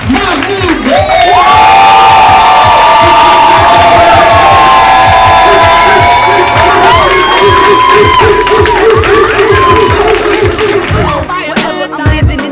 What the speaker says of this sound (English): I need everybody to give a big round of applause. Start clapping right now, clap right now.